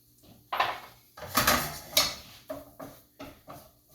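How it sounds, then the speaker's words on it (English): Flour being stirred into onions fried in a little oil in a pan, heard as a run of close, brisk scraping and clinking strokes in an uneven rhythm, with no talking. "I'm just going to let that flour get all over those onions."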